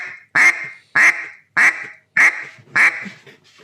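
Duck call blown by hand, five sharp nasal quacks spaced evenly about half a second apart, loud and close with silence between them.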